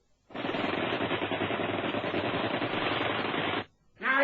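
A long burst of rapid automatic gunfire rattles for about three seconds in an old radio adventure drama, loud and continuous, then cuts off abruptly before a brief further noise.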